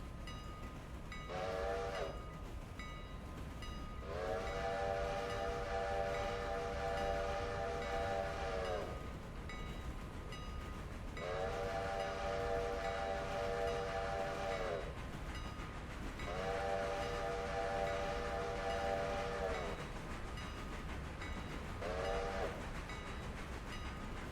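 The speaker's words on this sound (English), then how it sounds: "Announce your whistle to the world." Train whistle in the Railroader video game, sounding in long sustained blasts: a short toot, then three long wails and a final short one, over a constant rumbling rail background.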